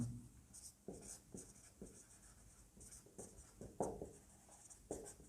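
Handwriting during a math lesson, pen strokes scratching in short separate bursts at a steady pace, close and fairly faint, with no voice.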